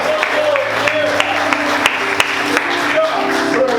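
Congregation applauding in a church service, a steady wash of clapping with sharper claps standing out, under a sustained tone and a voice calling out over it.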